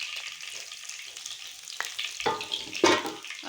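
Cumin seeds sizzling in hot ghee with ginger in a pan, a soft continuous crackling fizz with brief stirring scrapes, close and fairly quiet.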